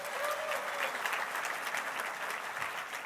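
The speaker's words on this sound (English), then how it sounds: "Let's give him a big round of applause." A crowd applauds at a political rally, steady dense clapping heard from a slight distance for the whole stretch, with no speech on top.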